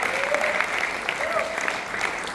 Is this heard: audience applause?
yes